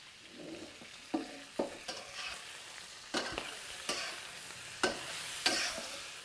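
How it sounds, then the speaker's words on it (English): Pork belly stir-fried in a wok for a Hunan chili and black bean dish, with a steady close sizzle broken by sharper scraping and tossing bursts as the pieces are moved around. "I'm just moving the wok here."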